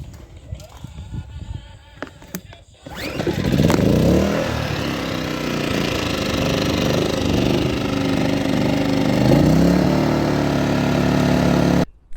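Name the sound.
emergency generator engine running after pull start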